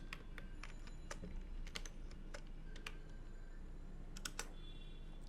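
Numbers being typed on a computer keyboard: a scattered run of crisp, close key clicks in irregular clusters over a quiet room hum, with no talk.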